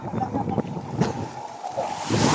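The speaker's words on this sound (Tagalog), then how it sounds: "Kaso biglang lumakas naman yung alon kaya naglaglagan sila" Sea waves wash and surge at a beach with clear water and sand. The surf is steady and rushing with wind noise on the microphone, and faint voices sit in the background.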